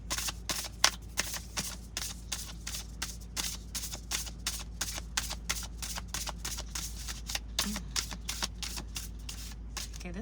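A deck of tarot cards is shuffled by hand, producing a steady stream of close, rapid riffling clicks that continues throughout over a low background hum. No talking is heard.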